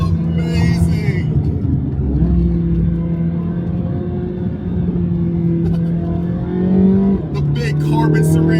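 A Chevrolet C8 Corvette Z06 accelerates hard through second and third gear, its loud engine drone climbing steadily in pitch, dropping briefly at the upshift, then rising again.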